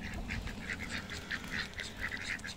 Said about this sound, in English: My gorgeous little duckies.